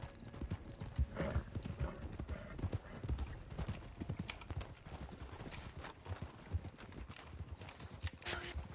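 Video game horse hooves clip-clop in a steady, brisk rhythm, close and continuous, with a brief whinny near the end and faint voices in the background.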